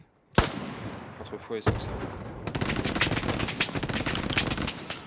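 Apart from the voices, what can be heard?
enemy machine gun firing in a video game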